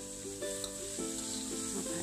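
Vegetables stir-fried in a pan for a homestyle Thai egg dish give a steady, quiet sizzle with soft scraping and stirring strokes, under a faint background tone and with no talking.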